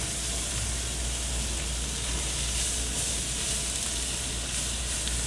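Chicken simmering in a sweet and sour sauce in a pan, giving a steady, close sizzle and hiss of bubbling liquid that stays even and unbroken throughout, with no talking.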